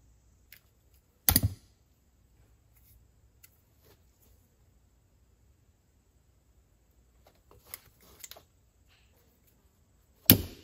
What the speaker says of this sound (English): Crimp that on real nice.